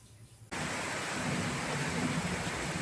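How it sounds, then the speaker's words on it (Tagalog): A sudden burst of heavy rain, a dense, steady hiss of downpour that holds loud and constant after a quiet moment. "ito ang malakas na ulan dito sa PB House ngayon na hapon"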